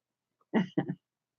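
A quiet double cough, two short muffled bursts close together in otherwise silent surroundings.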